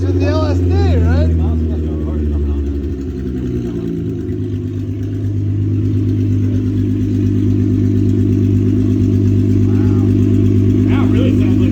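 Volkswagen Passat engine runs in gear on a cheap, rough car, a loud steady drone with a brief rev and dip early on, then a constant hum, while people talk over it.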